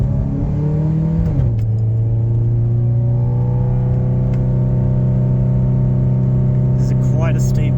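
Nissan Pulsar N14 engine pulling steadily up a steep hill after intake modifications, a continuous loud droning hum with a drop in pitch early on as the gear or revs change, then holding even.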